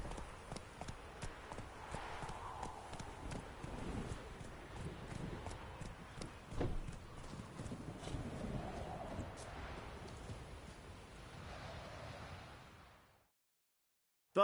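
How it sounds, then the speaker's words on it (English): Hoofbeats of the horse Roach galloping in The Witcher video game, a rapid rhythmic clip-clop running steadily for about thirteen seconds before cutting to silence. "Run, Roach."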